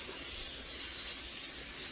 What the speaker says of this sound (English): I'm going to start spraying my pan with some Pam